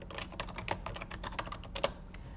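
Computer keyboard keys tapped in a quick, uneven run while entering data into an Excel or Google Sheets scheduling spreadsheet, crisp close clicks with one or two louder strokes, no voices.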